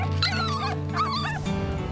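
Puppies on a kitchen floor whimper and yip close by, high wavering cries rising and falling in two or three drawn-out bursts over a steady low hum.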